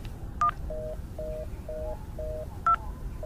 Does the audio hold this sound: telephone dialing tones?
yes